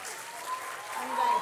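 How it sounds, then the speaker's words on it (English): Audience applause following a tabla performance, a steady wash of clapping from a crowd, moderately loud and continuous for the short span with a faint tone running through it. "I think we can have another round of applause."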